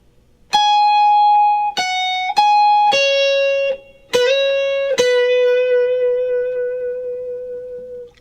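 An electric guitar plays a short lead phrase: a few sustained notes with slides between them, ending on a long held note that slowly fades.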